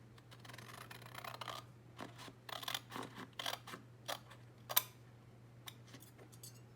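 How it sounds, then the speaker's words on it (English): Scissors cutting a 12x12 paper sheet along a score line, a series of quiet, separate snips and rustles spread at an uneven rhythm, close and soft. "I'm going to cut off the score line on this side"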